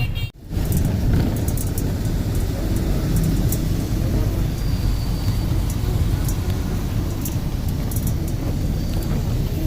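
Road traffic in a jam by an underpass construction site on the way to Gujranwala gives a continuous loud low rumble of engines, with faint horn-like tones and no speech.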